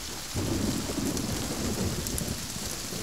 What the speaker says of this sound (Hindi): अच्छी बारिश हुई है।